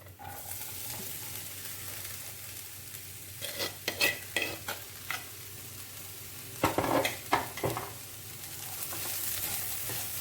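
Banana stem and green gram stir-fry (Kerala thoran) being mixed in a pan, with clustered bursts of spoon scraping over a faint, steady sizzle.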